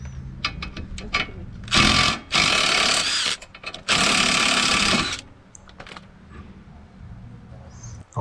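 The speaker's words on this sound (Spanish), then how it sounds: "retirar el tornillo que sujeta la bieleta de la barra estabilizadora" A power tool, likely an impact wrench, whirs in two long loud bursts while removing the bolt holding a stabilizer bar link to the suspension arm on a Volkswagen Jetta or Golf, with clicks and handling noises around them.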